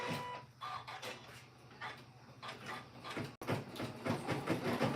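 A sewing machine stitches over a clutch purse held in an embroidery hoop, a rapid mechanical whirring and clatter that runs in bursts, close but fairly quiet, with no voices.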